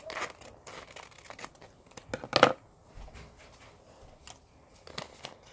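Paper being cut with scissors while folding a ninja star, a few scattered snips and rustles with one sharper crunch in the middle, close and fairly quiet.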